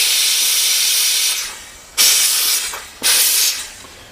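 A steam cleaner hisses loudly and steadily against a Bernina/Oliva CL46 sewing machine. The jet cuts off briefly twice and then bursts back to full force each time.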